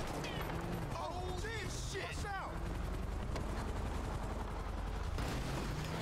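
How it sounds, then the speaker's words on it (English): Gunfire in a video game roleplay, rapid shots crackling under shouted talk and a siren-like wail, with engine noise running beneath throughout. "I'm just gonna start shooting at him."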